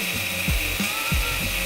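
A power drill fitted with a wood bit bores into plastic, a constant high whine with several rhythmic low thumps and catches as the bit grabs and slips.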